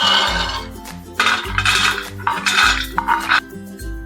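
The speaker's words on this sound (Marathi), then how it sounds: "त्याच्यावरती पॅन किंवा तवा ठेवू शकता" A pan or griddle is set down on a gas stove while modak are being made: a few sharp metallic clanks and scrapes of cookware ring out close by over steady background music.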